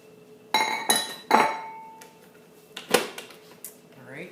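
A bowl is taken out and handled while baking savoury black bean biscuits, giving several bright glassy clinks and knocks close by, including one ringing tone, spread over a few seconds with quiet gaps between.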